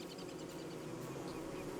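Steady buzzing of a bee swarm in Don't Starve, a continuous droning hum at moderate level with no talk over it.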